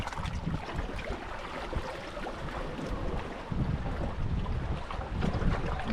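Strong wind at sea buffets the microphone in a continuous roar, with rough water and waves churning beneath it and occasional louder gusts, no voices.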